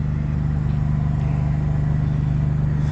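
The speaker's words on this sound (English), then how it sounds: "Motorhome's running, generator's running, everything's on." A 2006 Tiffin Allegro Bay 37DB gas Class A motorhome idles with its engine and generator both running, a loud, steady low hum and throb close by with no voices.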